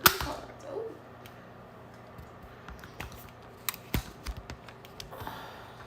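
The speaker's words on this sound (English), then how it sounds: "I'm just flipping around my cards, y'all." Playing cards being flipped one by one on a table, giving sharp, light snaps scattered irregularly through a quiet room, close and fairly soft, with no talking.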